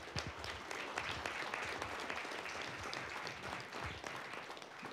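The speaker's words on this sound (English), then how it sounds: "Everyone please give him a huge round of applause." A room of attendees at a panel on state and local public land recreation gives a senator a sustained round of applause, a dense, even wash of many hands clapping at a fairly close distance throughout.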